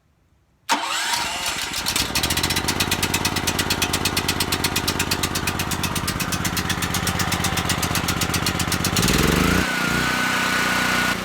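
A Generac portable generator is pulled into life on full choke, its engine catching abruptly after near silence and settling into a loud, steady running drone with a fast mechanical pulse that shifts briefly near the end.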